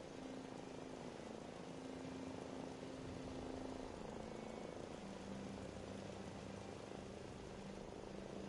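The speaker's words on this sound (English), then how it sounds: "I hear a helicopter" A helicopter in the Fallout 4 video game drones as a steady, broad rotor-and-engine roar, continuous and fairly loud throughout, with a low hum shifting pitch partway through.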